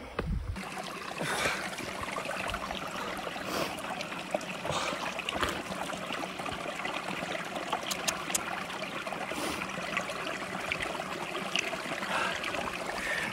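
Water trickles and splashes steadily nearby in the Norwegian wilderness, with scattered clicks and small knocks over a continuous bubbling flow.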